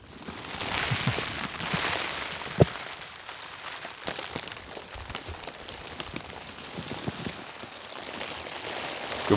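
Steady rain and sleet patter outdoors during a stormy snowstorm with strong winds, a dense hiss with scattered sharper ticks and a few louder drops, continuous throughout with no voices.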